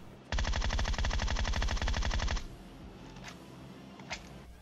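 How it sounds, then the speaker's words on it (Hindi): Automatic gunfire in the mobile shooter PUBG Mobile rattles in a rapid, loud burst of about two seconds, followed by a couple of faint distant shots. "अब गोली चला रहे हैं"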